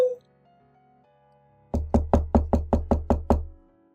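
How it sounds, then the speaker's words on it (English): A short chime sounds at the entrance door, followed by a quiet gap and then eight quick, evenly spaced knocks on the door, close and clear, with no voices. "I heard the entrance doorbell ring and the sound of knocking."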